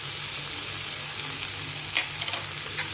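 Soaked chana dal frying with ginger and garlic in a pan sizzles steadily and densely, with a few faint clinks of stirring near the end, close and continuous.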